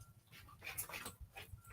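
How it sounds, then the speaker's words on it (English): A pet dog pants in quick, soft breaths close by outdoors, faint and rhythmic over low background noise. "It's my dog."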